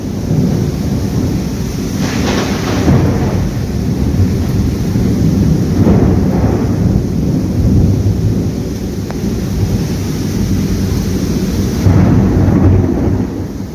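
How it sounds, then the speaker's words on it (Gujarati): A heavy thunderstorm with steady loud rain pours continuously, with several rolls of thunder rumbling through it over a dozen seconds. "જો આ ગાજવાનું ને વીજળી બંધ થાય"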